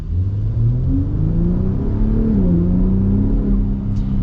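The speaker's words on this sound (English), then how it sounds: "if we pop the exhaust into Baja mode" A 2026 Ford Raptor with a dual-valve exhaust set to Baja mode revs hard, a loud, close, deep rumbling engine note rising and falling in pitch with no talk over it.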